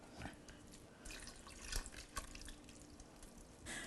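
Lamb broth pours into a pot of Persian haleem, a wheat and lamb porridge, with a steady liquid splash and a few drippy spatters, close and fairly quiet, no voices.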